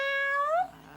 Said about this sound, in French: Oui, c'est ça, un miaou.